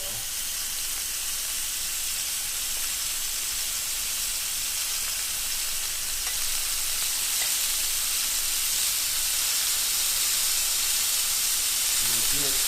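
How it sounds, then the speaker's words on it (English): Steak bites sear in olive oil in a hot pan, giving a continuous close sizzle and hiss of frying with faint stirring movements. "Good sear, so it's going to sear flavor right in there."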